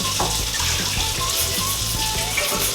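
Water pours steadily into a pot for cooking rice, a loud close continuous splashing stream with a gurgling rhythm, no voices.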